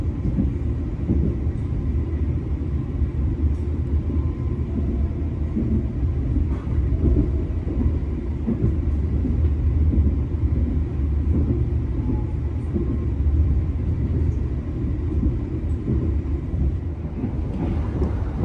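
Argo Muria train running straight through Cirebon Perujakan station without stopping, a heavy low rumble and steady rail roar that holds strong and continuous with a few scattered clanks.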